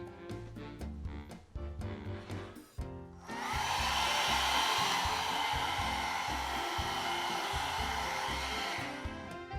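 A hair dryer used to dry freshly applied duochrome eyeshadow switches on after a few seconds of background music, then blows as a loud, steady whoosh up close to the end.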